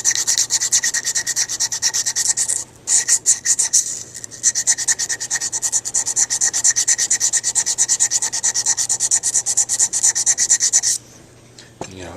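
A curved sanding tool rubs in quick, steady strokes along the side walls of a window opening, up close and loud, pausing briefly near the start and stopping near the end.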